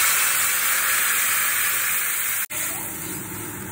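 Water hits a hot pan of frying green banana, potato and onion curry, and a steady loud hiss of steam and spitting continues close by, with a brief break partway through.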